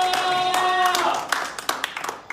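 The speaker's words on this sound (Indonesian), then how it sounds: "Tepuk tangan dulu buat Tuhan kita." A church congregation claps hands under a sustained musical chord, and the clapping becomes sparser, with distinct individual claps as the music fades out.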